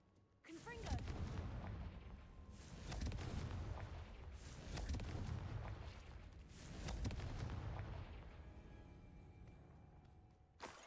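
In Hogwarts Legacy, the Confringo fire spell fires repeatedly, producing a series of deep, rumbling blasts about every two seconds that swell and fade, fairly soft overall.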